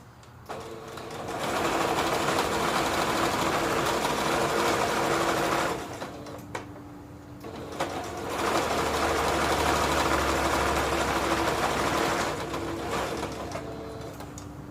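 A sewing machine stitches a fabric heart around curves in two long, steady whirring runs with a short pause between them, close and fairly loud with no talking.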